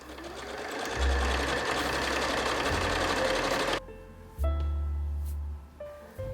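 Sewing machine stitching the shoulder seam of a child's garment, running loud and steady for several seconds, stopping briefly, then starting up again in a second burst and pausing once more.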